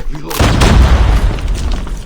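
A loud, deep boom bursts in after a brief quiet moment and rumbles on, a heavy explosion in Call of Duty: Mobile filling the clip.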